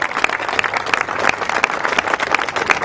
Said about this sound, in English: I'd like to give another round of applause to those people from the Erie Canalway National Corridor